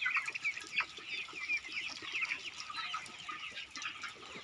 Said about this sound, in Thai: ไก่สวยมากค่ะ